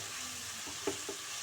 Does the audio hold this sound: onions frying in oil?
yes